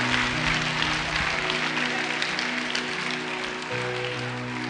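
A congregation clapping together at a church healing service, a steady, sustained wash of many hands over a low sustained musical drone, filling the space for several seconds.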